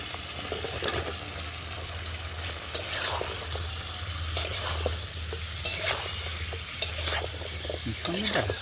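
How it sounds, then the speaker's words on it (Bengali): Elephant foot yam is stirred into sizzling spice paste in a pan on a new stove for a village-style Bengali coconut yam dish, giving a continuous frying hiss broken by repeated utensil scrapes and clinks against the pan. "মশলা কষানো কমপ্লিট, তেল ছেড়ে দিয়েছে। এবার আমি ওলটা দিয়ে দেবো।"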